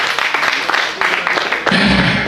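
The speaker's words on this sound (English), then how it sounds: "please, a hand of applause to yourself" Fundraiser audience applause for a football club, dense clapping filling the room with a few louder thumps, swelling near the end and mixed with crowd noise and voices.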